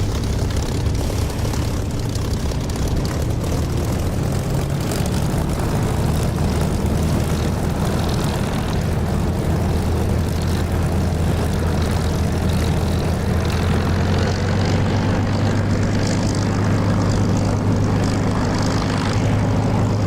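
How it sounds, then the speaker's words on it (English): Aircraft engine runs steadily and loudly throughout as a plane taxis and begins its takeoff in the DCS flight simulator game, a constant propeller-like drone with a rising tone toward the end, no talk. "So I'll just taxi and take off now."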